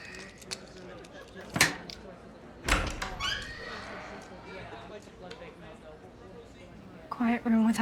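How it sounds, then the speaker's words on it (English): A door in a hospital scene of the TV drama The Pitt is opened with a couple of distinct knocks and thuds, and voices talk nearby. "Okay, I'm gonna open this door now."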